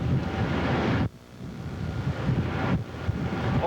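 Wind buffeting a microphone on the Lincolnville to Islesboro ferry, a loud broadband rush mixed with a low engine rumble, dipping briefly near one second before rising again, with no speech.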